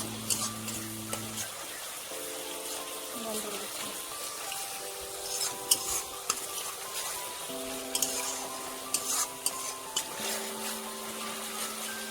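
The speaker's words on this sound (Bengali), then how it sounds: "এগুলোকে ভালো করে কষে নেবো।" Tomato paste frying in a pan for a Bengali shrimp and poi greens dish, a steady soft sizzle with scraping stirs, a few sharp utensil knocks, and background music throughout.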